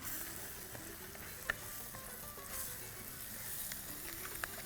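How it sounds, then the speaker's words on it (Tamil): Coriander and curry leaves sizzle and crackle in a hot pan as they are sautéed, a steady close frying hiss with occasional stirring clicks, no voices. "அதே மாதிரி கொஞ்சம் கருவேப்பிலை போட்டுக்கலாம். ஒரு வதக்கலாம்."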